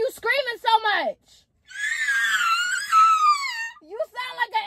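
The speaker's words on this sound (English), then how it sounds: "Why are you screaming so much?" A woman screams loudly at the top of her lungs for about two seconds, a long shrill wavering cry, with a voice talking just before and after it.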